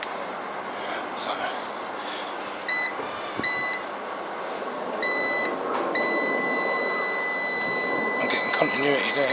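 A multimeter beeps while testing continuity on motorcycle switches of a Chinese Jinlun 125, giving short high tones and then a longer sustained tone over a noisy, rustling background close by.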